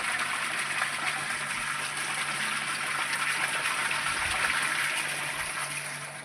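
Water gushes steadily from a borewell pump, dark water pouring out with a continuous hissing splash that stays close and even throughout.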